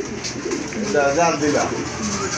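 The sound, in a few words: pigeons cooing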